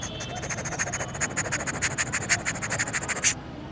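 A boy performs a vocal imitation of a helicopter, producing a rapid, steady train of pulsing, chopping beats that runs for about three seconds, then stops.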